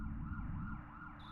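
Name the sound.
police sirens in the video game Earthbound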